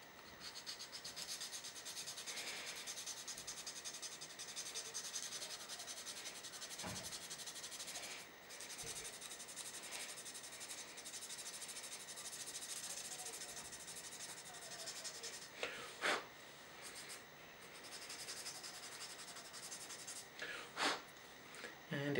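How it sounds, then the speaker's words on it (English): An abrasive stick sands a plastic model kit part, a faint, steady dry rubbing scratch repeated over and over, close and quiet, with a few brief louder scrapes near the end. "So abrasive stick,"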